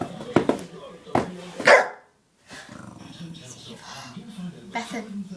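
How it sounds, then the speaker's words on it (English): An angry dog barks and growls up close in sharp, loud bursts, with a short pause before rough growling resumes, while people talk over it. "Evil dog."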